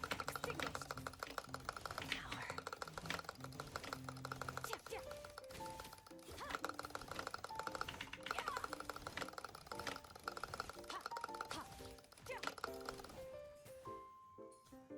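Rapid butterfly clicking on a computer mouse during a video game combo, a dense stream of light, fast clicks running almost throughout, mixed under loud game sound effects and music.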